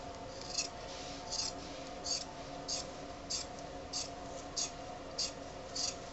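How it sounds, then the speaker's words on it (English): Scissors cut through extra dress fabric in a run of nine evenly spaced crisp snips, soft and close, over a quiet steady background hum. "So let's just cut off this extra 6 inches. Okay, so we're going to do that now."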